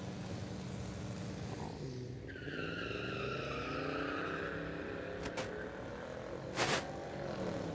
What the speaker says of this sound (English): Got the F Super Duty getting ready to roll up here in the left-hand lane.